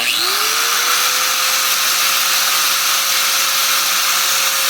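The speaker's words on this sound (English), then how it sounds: "Or like an angle grinder." An angle grinder powered by an off-grid 12V-to-110V solar inverter whines steadily after a brief spin-up, loud and close, with a constant motor tone and no pauses.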